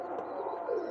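Egyptian flying pigeons coo in a short, soft, steady murmur close by, with no voices over it.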